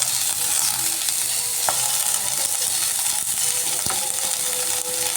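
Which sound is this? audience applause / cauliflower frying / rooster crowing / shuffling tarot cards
cauliflower frying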